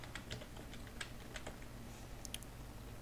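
Keys on a computer keyboard are tapped while a command is entered on a Windows 10 PC, giving a quiet, irregular run of light clicks over a low background hum.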